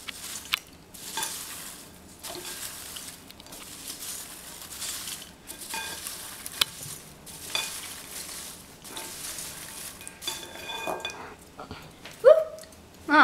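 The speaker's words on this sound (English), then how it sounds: "We gotta stir it. Stir it real good." Popcorn coated in melted butter being stirred with a spatula, repeated bursts of scraping and rustling over a soft sizzle, with a few louder clatters near the end.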